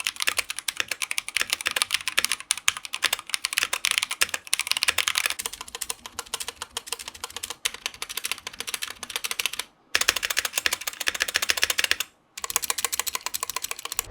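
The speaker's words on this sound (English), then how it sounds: "Here's a quick sound test with those Skylight keycaps of the Holy Panda stock." Rapid, continuous clacking on a Drop ALT mechanical keyboard with stock unlubed Holy Panda switches and Skylight keycaps, close and crisp, with two brief pauses near the end and no talking.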